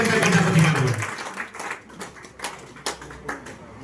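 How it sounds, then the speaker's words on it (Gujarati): Audience applause at a meeting in Tharad, a dense burst of clapping that quickly thins into scattered, irregular claps, fairly close. "જોરદાર તાળી આપો"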